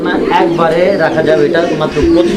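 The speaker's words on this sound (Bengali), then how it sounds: "দেখতে পাচ্ছেন ডাকাডাকি করতেছে জায়েন্ট হুমার কবুতর" A pair of Giant Homer pigeons coo continuously up close, their deep throaty calls overlapping into a steady murmur that fills the short stretch.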